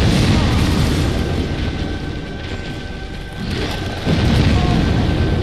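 Bomb blast in Dark Souls Remastered, a deep rumbling boom that fills the whole stretch with dense low-end roar, swelling again near the end, loud and close.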